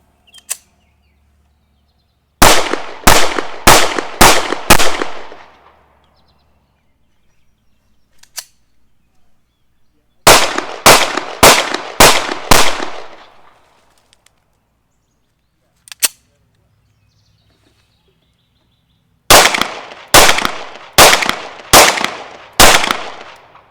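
A Browning Hi Power Mark III pistol fires at an outdoor range in three sharp rapid strings of about five shots each. Single faint pops sit between the strings, and the silence between groups is clear.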